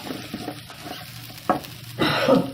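Rice fries in a pot as it is stirred, with a soft steady sizzle punctuated by scraping stirs and a louder burst of crackling frying near the end, close up without speech.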